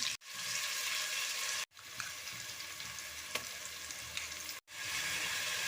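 Sliced onions and green chilies sauté in hot oil for egg biryani, giving a steady, fairly quiet sizzle broken by three brief gaps, with no talking over it.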